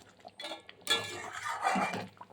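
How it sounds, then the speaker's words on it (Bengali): A metal lid set onto a cooking pot of dahi fish, a few clinking, clattering contacts of metal on metal over about two seconds, close and fairly loud. "এবার আমি একটু ঢাকনা দিয়ে দিই"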